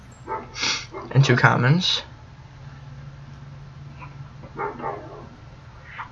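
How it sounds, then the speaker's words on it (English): A dog barks a few times during an Overwatch loot-box opening session, with someone talking over some of the barks and short yips. "sorry, my dog was barking"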